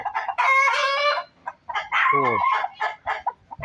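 A rooster crows loudly nearby in a yard, a long strained call, followed by a second crow and some clucking from other birds.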